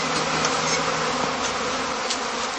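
Dense, continuous buzzing of a honeybee swarm at a heathland apiary of straw heather skeps, a loud, close, even drone with individual bees flitting past.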